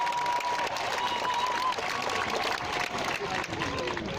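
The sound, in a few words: crowd applauding Greta Thunberg at Marble Arch protest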